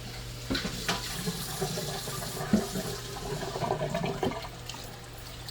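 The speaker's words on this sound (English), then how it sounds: "So I'm rinsing off the rice." Rice is rinsed under running tap water in a sink, a continuous close splashing stream broken by sharp knocks and shuffles of grains and container.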